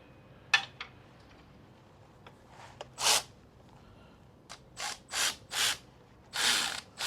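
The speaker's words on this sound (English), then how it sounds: "Then you can still tighten it like this, like a normal ratchet." A ratchet wrench tightens a fastener in a tight spot, sounding as short bursts of crisp close clicking separated by quiet pauses.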